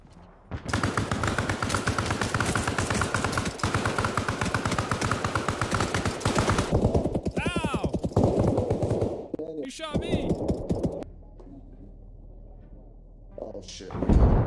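Gunfire in the video game Arma: sustained rapid automatic bursts dominate for several seconds, then scattered single shots and clanks, with players talking in between and a quieter stretch near the end.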